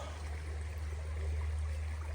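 Flooded creek running high above its bank, a steady low rushing flow of water heard alone and fairly faint.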